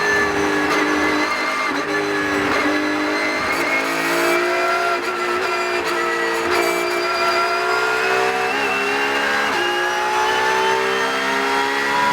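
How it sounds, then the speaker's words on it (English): A Porsche Cup race car at Spa-Francorchamps runs flat out, its engine holding a loud, sustained high wail with rising and falling pitch sweeps as it pulls through the section, steady and close throughout. "The car's running absolutely flat out through this section to the inside."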